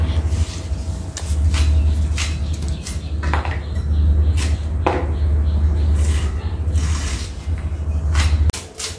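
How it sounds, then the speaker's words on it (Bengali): Washed okra is cut with a knife for frying, giving a run of sharp, irregular close chops over a steady low hum, with no speech. "এই যে আমার ঢেঁড়স কাটা শেষ হয়ে গেছে গা, কাটা শেষ।"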